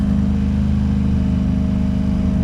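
A Ferrari on a Miami street, its engine droning steadily with a low hum at moderate distance, no voices over it.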